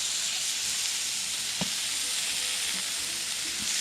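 Pork sizzles and fries steadily in a hot pan, a constant hiss with a few faint clinks, no voices.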